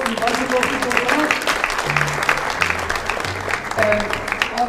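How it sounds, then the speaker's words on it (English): A crowd at a football awards ceremony claps for a winning club, sustained applause with a speaker's amplified voice talking over it. "Let's give them a round of applause, Invincible Football Club."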